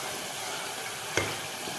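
Vegetables sizzle gently in oil in a clay pot for biryani, a soft continuous frying hiss with one brief stir or clink partway through, heard close and quiet without any talk.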